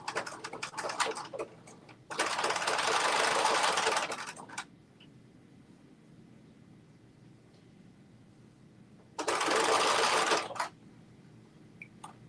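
Threaded domestic sewing machine stitching a Carmen top, running in two short close bursts of steady whirring, about two and a half seconds and then a second shorter run, with quiet room tone between.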